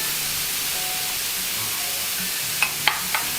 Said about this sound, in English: While the coconut is roasting, let us marinate our shrimp.